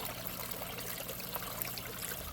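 Water rushes steadily through a small gold sluice, a constant, close trickling and splashing flow with no breaks or voices.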